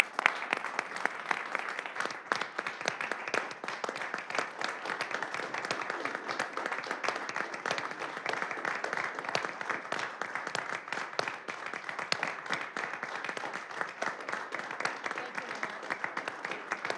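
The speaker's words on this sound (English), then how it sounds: "could we give Mayor Nold a round of applause?" Council-meeting audience applauding retiring Mayor Nold, a dense, even round of clapping that carries on steadily for more than fifteen seconds.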